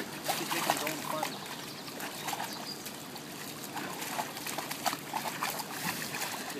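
A red heeler dog named Elliot splashes and paddles in pool water, a steady run of sloshing, trickling splashes close by, with people talking over it.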